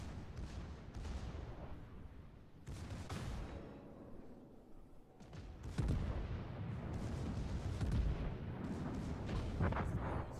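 Heavy naval gunfire from the battleship Bayern shelling an enemy destroyer in a naval warfare video game: several deep, booming salvos in separate bursts, loud and rumbling, with the later ones heavier and more sustained.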